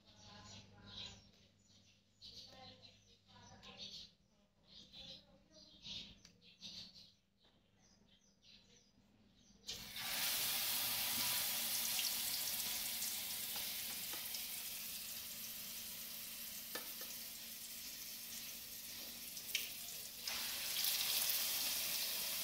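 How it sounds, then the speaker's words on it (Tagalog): Food fries in a hot pan in a home kitchen, a loud, continuous sizzle that starts abruptly partway through after quieter handling noises and a voice, then crackles steadily to the end. "Mag-prito."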